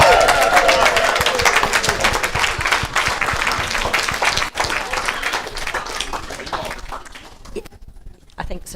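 Audience applause for a medium taking the stage at a spirit seekers weekend demonstration of mediumship, a loud dense round of clapping that holds steady then thins out and fades toward the end, with voices mixed in.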